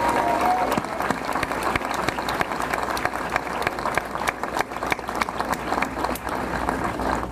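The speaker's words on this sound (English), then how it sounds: "Give yourselves a round of applause." US troops at a Middle East base applauding, a crowd of many hands clapping in a steady, somewhat uneven patter, loud and sustained through the whole stretch.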